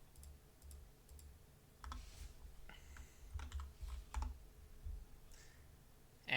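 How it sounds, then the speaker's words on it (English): Quiet computer keyboard typing, with a run of soft, irregular key clicks and a few firmer presses near the end, close to the microphone in an otherwise hushed room. "Then you just click enter."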